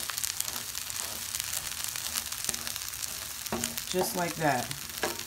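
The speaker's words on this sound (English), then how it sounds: "I'm gonna stir fry my egg here" Egg is stir fried in a pan with ginger and black pepper, giving a steady sizzle, then scraping and stirring strokes grow louder toward the end while a voice speaks briefly.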